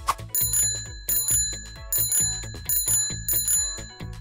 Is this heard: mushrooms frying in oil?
no